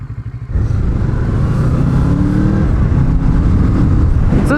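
A Kawasaki Z650 motorcycle pulls away up close, its engine droning loud and steady while the revs climb and shift as it accelerates.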